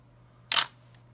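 A single short, bright electronic chirp from a camera confirming focus, close and clear over a faint steady hum.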